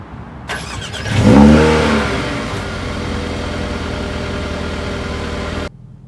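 A Mercedes-AMG A 35 4MATIC starts with a loud bark and a quick rev flare, then drops into a steady, fairly loud idle that cuts off abruptly near the end.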